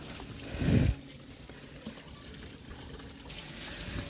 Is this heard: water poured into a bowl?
yes